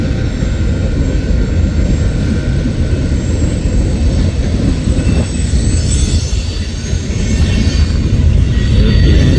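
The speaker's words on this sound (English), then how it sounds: "There's the end of the eastbound coal drag." An eastbound coal train rolling past at length, a loud, continuous rumble of wagons with faint squealing wheels rising toward the end, heard alone with no voices.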